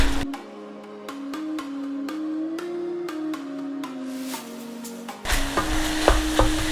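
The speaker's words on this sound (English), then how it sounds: "And then we're going to cut these up into chunks." Apples are cut into chunks on a board, the knife landing in a steady run of sharp chops over a sustained musical tone, followed by a louder, busier stretch near the end.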